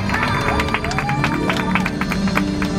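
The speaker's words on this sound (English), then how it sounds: "I also want to give a big round of applause to our driver, David, for driving us a lot today." Tour-tram passengers at Universal Studios Hollywood clap for their driver, scattered hand claps over a low steady drone of the vehicle, with faint voices mixed in.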